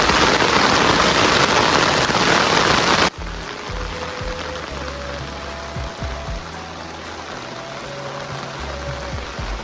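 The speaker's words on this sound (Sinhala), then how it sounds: "හයියෙන් වහිනවා" Heavy rain pours down in Anuradhapura, Sri Lanka, a loud dense hiss for the first few seconds that then drops to a softer, steady patter of drops nearby.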